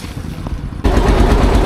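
A boat engine roars to life at Majhgaon ghat for a river crossing toward Satir Char on Nikli haor, Bangladesh. A quiet stretch ends abruptly in a loud, steady, close engine rumble with no talking.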